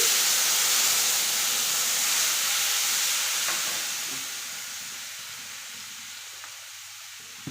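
Tamarind dropped into a hot pan sets off a loud hissing sizzle with a burst of steam that gradually fades and softens over several seconds, close by and alone.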